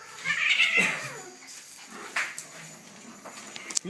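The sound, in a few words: cat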